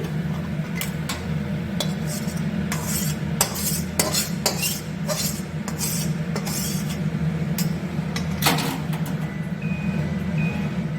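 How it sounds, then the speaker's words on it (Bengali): Finished baim fish curry, an oily spicy tel jhal, gets tipped and scraped out of a pan, with repeated metal scrapes and clinks of a spoon on cookware over a steady low hum; no voices. "আমার হয়ে গেছে আজকে তেল ঝাল, আমি ঢেলে নিচ্ছি"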